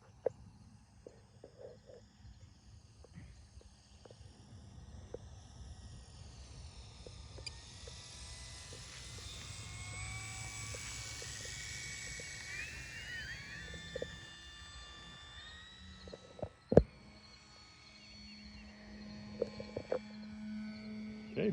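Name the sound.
FMS Fox radio-controlled glider landing slowly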